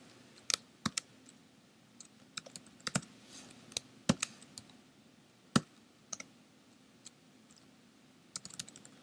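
Computer keyboard keys clicking as code is typed in the Eclipse editor, a sparse, irregular run of sharp taps with pauses between bursts, close and fairly quiet against a faint steady hum.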